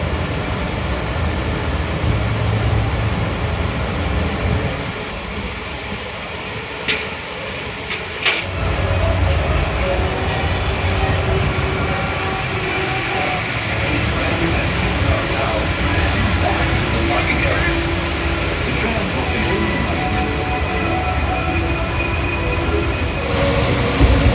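A Disneyland tram rumbles and rattles steadily along the track, with a brief squeal and a voice faintly talking beneath the constant noise.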